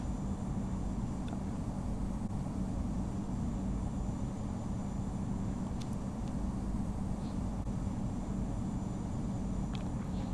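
A Frontier airliner in the Infinite Flight simulator sits at the start of its takeoff roll on runway 34, engines giving a steady, even broadband roar with no talk.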